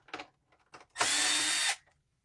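A power drill unscrewing screws from the bottom plate of a vacuum cleaner: a couple of short faint bursts, then one loud, steady, high whirring run of under a second, close up and alone.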